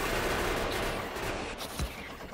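Rapid, dense gunfire rattles continuously in Factorio, a muffled stream of overlapping shots with a sharper burst near the end.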